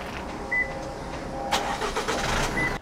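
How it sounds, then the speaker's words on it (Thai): A 2023 Isuzu Hi-Lander pickup truck is started with the remote start button on the key fob: a short beep, then the engine cranks and catches into a near, steady running rumble, with a second beep near the end. "ด้านบนสุดครับจะเป็นปุ่มที่สามารถสั่งให้รถสตาร์ทได้นะครับโดยการที่เราจะต้องกดล็อกรถ1ทีแบบนี้มีเสียงปุ๊บแล้วเรากดแช่ไว้ครับ"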